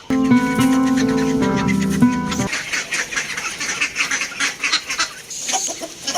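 Ducks and chickens let out in the morning on a farmyard give loud, close, nasal honking calls for the first couple of seconds, followed by a rougher mix of scuffling, flapping and softer clucking.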